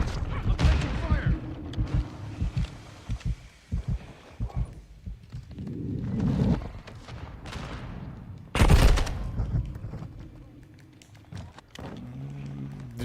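Gunfire bursts and explosive impacts from the video game Call of Duty Modern Warfare II, with sharp loud cracks and rattling volleys scattered among game effects and radio chatter.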